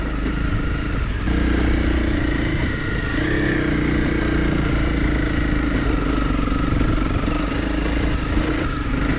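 Rented motorcycles ride off-road over a rough track in Morocco, giving a loud, continuous engine drone with a steady throttle and mechanical clatter from start to finish, and no talking.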